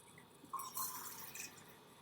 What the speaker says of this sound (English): Put that water in there.